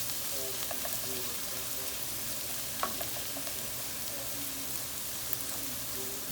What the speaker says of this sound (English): Make sure you stir it every once in a while.